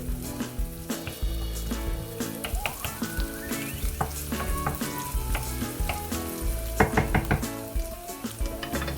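Venison salami fries in a pan while scrambled eggs are being made, a loud, close, continuous sizzle with stirring scrapes and clinks of utensils against the pan.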